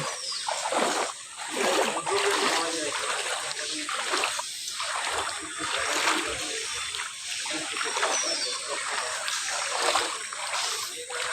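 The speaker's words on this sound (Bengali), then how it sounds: "জল ঠেলে ঠেলে যেতে হচ্ছে।" Someone wading through floodwater at the Kankalitala temple site, continuous close splashing and sloshing of pushed water with irregular surges, loud and steady throughout.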